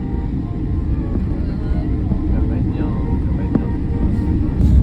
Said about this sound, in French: le fameux décollage à Montpellier, après avoir pris un avion à Paris